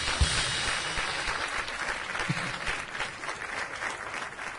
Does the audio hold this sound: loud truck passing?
no